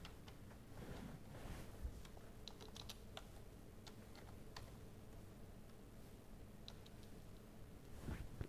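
A computer keyboard clicks in faint, irregular typing bursts with scattered individual keystrokes, quiet and close, with no talking.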